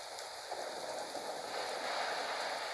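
Steady rain falling in a continuous soft hiss, close and even throughout with no voices.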